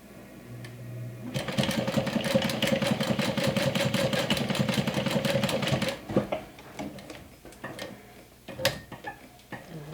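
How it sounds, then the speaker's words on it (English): A sewing machine stitches a diagonal line across straps with D-rings, a fast rhythmic run of about five seconds followed by scattered clicks and handling noises, near and clear. "So we're going to sew a diagonal line."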